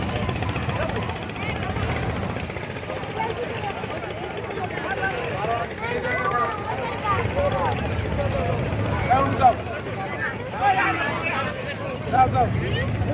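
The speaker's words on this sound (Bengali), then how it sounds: "এই যে এইটা হচ্ছে সি বোট।" A sea boat, a speedboat, runs on the river at Shimulia Ghat on Eid day with trolleys nearby, its buzzing engine droning steadily under crowd chatter and talking voices.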